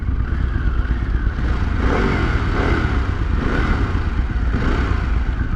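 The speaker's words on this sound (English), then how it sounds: "It sounds like the Sportster S engine." A 2023 Harley-Davidson Pan America Special motorcycle engine rumbles steadily up close, with a deep throaty drone and slight swells in pitch, no voices.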